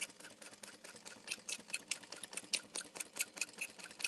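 Sewing machine stitching fabric for a Dreamer Pack bag, a faint, steady rapid rattling run of needle strokes with a fluttering rhythm.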